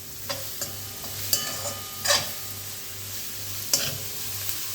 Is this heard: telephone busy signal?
no